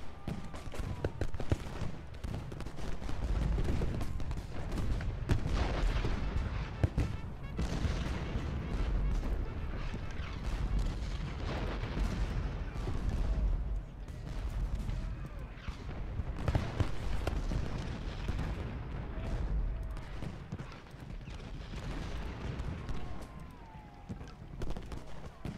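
Cannon and musket volley fire rage in an American Civil War battle at Gettysburg in a strategy video game, a dense, loud, continuous roll of booming reports and crackling gunfire throughout.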